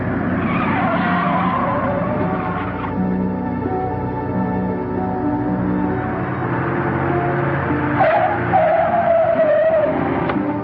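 Car brakes lock and tires squeal and skid in an old crime drama scene, a loud sustained screech with engine noise that fades, then a second sharp squeal near the end.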